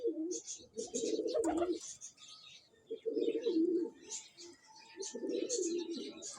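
Parwazi pigeons, a flying breed, coo in low rolling bursts close by, with bird chirps and calls overhead and faint voices in the background.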